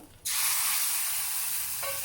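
After a quiet moment, a sudden loud burst of hissing sizzle erupts as hot tempering is poured into dal, then continues steadily.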